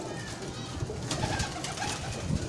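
A golden female breeder pigeon cooing softly in a loft, low repeated coos over a constant background hiss, with faint human voices nearby.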